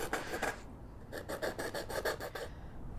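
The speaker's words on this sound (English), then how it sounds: "file it down, just like you would a nail." Quick rhythmic rasping strokes of a nail file on paper edges, a short burst then a longer run of about ten scrapes rubbing back and forth.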